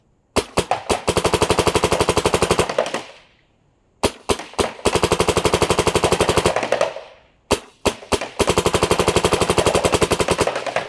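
Paintball marker in ramping mode firing rapid, steady bursts of loud sharp shots, three sustained volleys of about two to three seconds each separated by brief pauses, close and with no talking.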